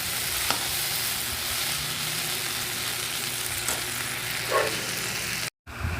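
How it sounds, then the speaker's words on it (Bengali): Okra sizzles and fries in a small amount of oil in a home kitchen pan, a steady crackling hiss with a few stirring scrapes, close and continuous, with rain outside. "ভাজাটা আগে করি ভেন্ডি ভাজা"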